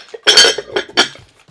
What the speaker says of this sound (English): it's one of those chicken glass dishes